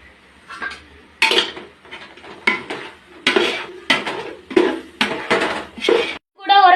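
A spoon stirs turmeric, chili powder and garam masala into a pot for mutton biryani, clanking against the metal in repeated loud scrapes and knocks, with a brief voice near the start.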